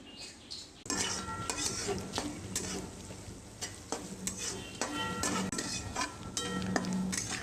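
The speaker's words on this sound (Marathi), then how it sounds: "हे एक वाटी ओलं खोबरं आहे मी ह्यामध्ये घालतो" Fresh grated coconut roasting in a pan for laddoos, with continuous sizzling and frequent scraping, clattering stirs of a utensil against the pan, close and steady after a quieter first second.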